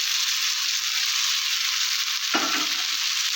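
Jackfruit seeds and stalks of greens fry in spices with a steady, bright sizzle, broken near the end by a single scraping stir.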